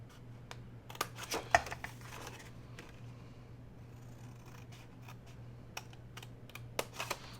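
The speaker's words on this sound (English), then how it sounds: "And then you're just going to cut straight up on these score lines." Scissors cutting through paper along score lines while assembling a 3D beach hut box from an E Club kit: close, crisp snips and scraping cuts in uneven bursts.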